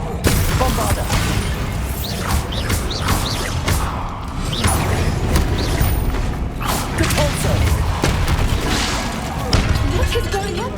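A Bombarda blasting spell goes off during a Hogwarts Legacy battle, with loud cracking bursts, crashing impacts and creaking debris repeating over a dense, rumbling game soundscape.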